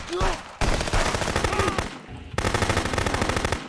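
Rapid automatic gunfire from an assault rifle in the police-versus-smugglers video game Contraband Police, sustained bursts with a brief pause midway, loud and close, with faint voice traces.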